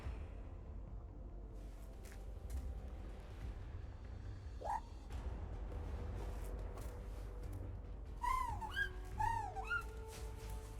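In a Final Fantasy card game, a Squeaky Bird card gives off bright chirping, warbling squeaks, one brief chirp midway and then a quick cluster of rising and falling whistles near the end, over low background hum.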